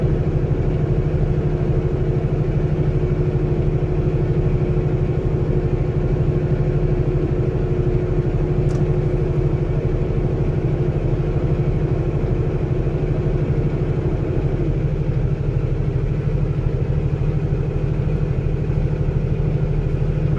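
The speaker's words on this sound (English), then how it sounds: "I'm gonna go ahead and upshift one more into 9th gear" Steady low drone of a heavy truck engine cruising in 9th gear at about 40 mph on the I-80 freeway climbing out of Laramie, Wyoming, a continuous rumble with road noise and no pauses.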